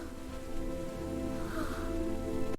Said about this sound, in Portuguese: E então as primeiras gotas de chuva começaram a cair.